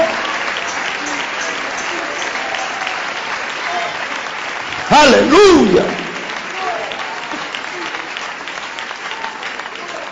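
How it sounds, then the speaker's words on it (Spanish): A church congregation claps in praise, sustained loud applause filling the room, with one voice briefly calling out midway before the clapping carries on. "dale ese aplauso de alabanza"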